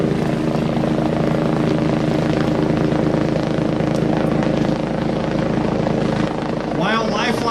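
A Lifeline medical helicopter comes in to land at a disaster drill, its rotor and engine roaring loudly and steadily throughout, close by and drowning out everything else.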